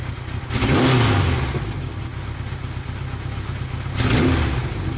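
A motorcycle engine treated with Amsoil fuel additives, idling steadily and then revving up twice in quick rising surges, close and fairly loud, with a slight stutter.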